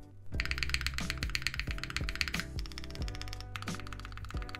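Typing on a mechanical keyboard built with lubed, tuned stabilizers gives close, full, deep thocks in quick irregular bursts, fairly loud and alone without talking.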